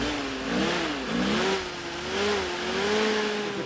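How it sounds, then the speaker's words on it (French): A Jeep engine starts and runs steadily with a low hum that rises and falls as it revs, continuous and fairly close, with no talking. "Le moteur d'une Jeep a un bruit inimitable."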